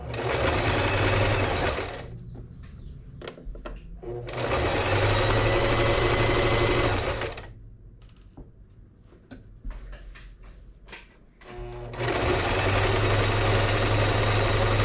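A sewing machine runs in three long, loud, steady bursts of rapid stitching, separated by quieter pauses filled with handling clicks and fabric rustles.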